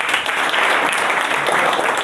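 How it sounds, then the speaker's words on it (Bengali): Loud, dense applause from an audience at a product announcement event, many hands clapping steadily close by with no talking over it. "পিপল সিমার্টের জন্য জোরে একটা করতালি হবে"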